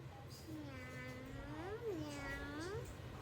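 A single long, wavering meow from a child mimicking a cat, soft and close, over a low background hum.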